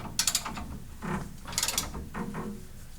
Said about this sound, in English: I'm hearing a little bit of rubbing